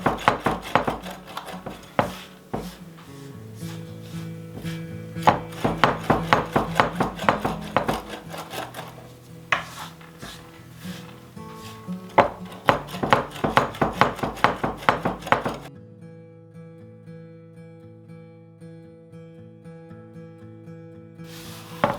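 Walnuts chopped with a knife on a board for a maple walnut pie: rapid, uneven clusters of sharp close knife taps for about fifteen seconds, then quiet with a faint background tone.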